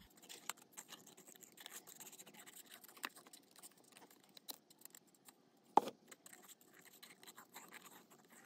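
Scissors snip through paper while a mixed media piece is cut out, a faint, rapid run of small crisp cuts and scratches close by, with one sharper snip near the end.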